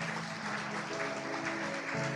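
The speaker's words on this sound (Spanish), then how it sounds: "Fuerte ese aplauso, Señor" A church congregation claps during a worship service, the applause moderate and continuous, with sustained musical tones humming underneath.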